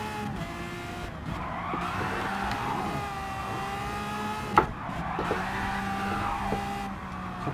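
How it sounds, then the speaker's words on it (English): A four-wheel-drive Lamborghini V12 Vision GT drifts through corners in Gran Turismo 7, its engine whining steadily as tires squeal in long sweeping skids, with a sharp knock partway through. "drifting it around the corners"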